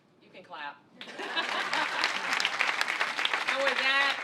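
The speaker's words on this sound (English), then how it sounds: "you can clap" An audience at an outdoor groundbreaking ceremony for a housing block breaks into sustained applause after a brief spoken line, steady clapping with a few voices and light laughter mixed in.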